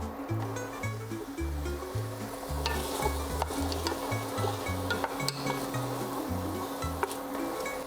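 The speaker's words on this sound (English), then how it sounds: "So I like sauteing all the vegetables together before we add our liquid." Tomatoes and carrots sautéing together in a pot for minestrone soup give a continuous sizzle with repeated stirring scrapes, fairly close and steady, without speech.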